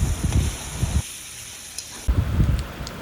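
Chopped vegetables and onions frying in a pan with ground coriander and cumin for Bengali-style egg chowmein, a loud, steady sizzle that swells with stirring and briefly drops away in the middle.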